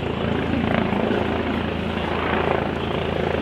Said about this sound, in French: Il est où l'hélico?